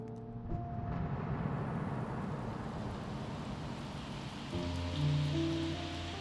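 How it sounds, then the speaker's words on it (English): Rain falling in the Sherlock Chapter One video game, a steady soft patter on surfaces with low tonal hums and a slight swell toward the end, no voices. "it was raining early that morning."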